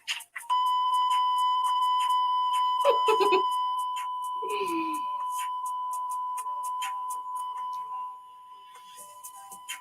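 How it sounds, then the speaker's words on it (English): A steady censorship bleep tone runs over speech on a TV talk show for most of the stretch, loud and continuous, with brief voice fragments breaking through near the middle before the tone drops slightly toward the end. "why Johnny puts a beep over this part of the show, so you'll never know what it is"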